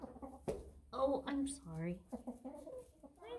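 Hens cluck and squawk in a crowded nest box where several birds want to lay, close and fairly quiet, with short bursts and one drawn-out call, as a person speaks briefly.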